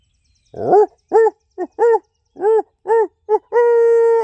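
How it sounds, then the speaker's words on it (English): An owl hoots loudly and close in the woods during a spring turkey hunt, a rhythmic series of about eight deep hoots ending in a drawn-out final call, alone with no talking. "Did you hear that owl respond back?"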